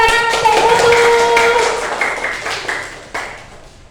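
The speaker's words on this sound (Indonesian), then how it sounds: "tepuk tangan untuk Putu." Classroom applause for a student: a burst of hand clapping over a steady sung or spoken tone, fading into scattered claps over about four seconds.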